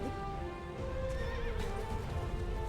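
A horse whinnies in the video game Shadow of the Colossus, a drawn-out tonal neigh with soft hoof clip-clops and low rumbling ambience underneath.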